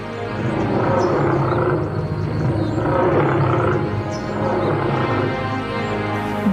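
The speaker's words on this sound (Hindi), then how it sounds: "दहाड़ने की आवाज आती है," The tiger Shere Khan roars in a jungle setting, a loud, deep, rumbling growl swelling in repeated waves, close and alone.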